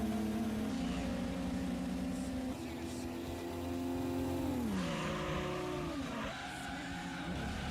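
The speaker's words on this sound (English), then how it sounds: "Whose car is screeching?" Car engines and tyre squeal from the Gran Turismo 2 racing video game, with a continuous sustained engine whine that shifts pitch as the cars change gears and turn, loud and constant throughout.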